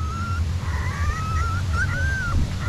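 A 2.5-week-old puppy, eyes newly opened, gives thin, drawn-out whimpers and faint squeaks in a series over a steady low outdoor rumble.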